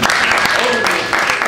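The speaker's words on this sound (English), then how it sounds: "Anybody over the age of 30, please clap your hands if you're on Facebook." Comedy show audience over thirty clapping, a short burst of scattered applause with a voice talking over it.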